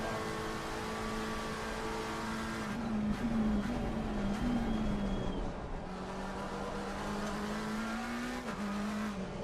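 Tyres squeal in the Simgrid sim racing game over a steady, droning race-car engine. The whining tone rises and shifts as the car works through corners, and there is no talk.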